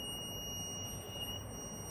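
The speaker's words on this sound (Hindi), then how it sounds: "अब इसको अगर मैं कनेक्ट करूँगा ये नॉइस करने लग जाएगा बजर।" Buzzer of a homemade mini laser alarm sounding as a steady, piercing high-pitched tone with harmonics over a constant noisy hum, continuous and unbroken for the whole stretch.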